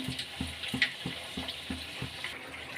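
Potato French fries crackle in hot oil, a soft, fairly quiet sizzle with a regular rhythm of clinking or tapping beats about every third of a second throughout.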